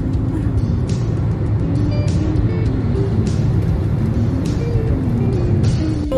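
A car accelerates while driving through Germany, its engine giving a steady low hum with a faint whine above it. Light road noise continues throughout, and there is no talk.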